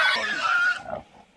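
A feral pig cornered by hunting dogs lets out a single short, loud, high squealing grunt that tapers off within about a second.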